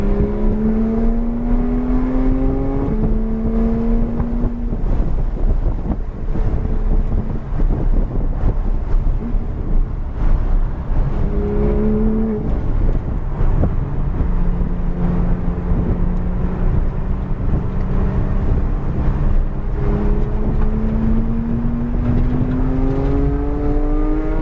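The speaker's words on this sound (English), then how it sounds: "I love the downshift on these things." Porsche GT3 engine on a track, heard from the cabin as a continuous loud drone, climbing in pitch under acceleration and dropping sharply with each downshift, with blips of revs between gears and wind noise throughout.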